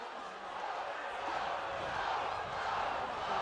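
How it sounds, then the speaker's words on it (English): A rugby league stadium crowd at a Toulouse Olympique home match shouts and roars in reaction to a tackle incident, a broad, swelling crowd noise that builds louder midway, with a commentator's voice faintly mixed in. "You can hear what the crowd want to happen here."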